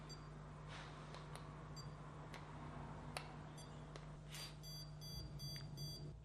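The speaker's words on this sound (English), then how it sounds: "use one of these and it'll beep at you when there's a stud nearby" A handheld stud finder sweeps across an interior wall, giving a series of short, sharp electronic beeps at irregular intervals, faint and close over a low steady hum, with no talking.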